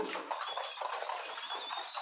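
Big Lahori pigeons coo softly in a breeder room, a faint cluster of low, murmuring calls in an irregular rhythm over a quiet room hum.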